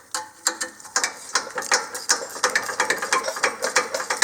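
Ratchet wrench loosening 17 mm rear brake bolts on a 2017-present Nissan Rogue Sport, a rapid series of sharp clicking ratchet strokes, close and loud, in quick uneven bursts with no talk.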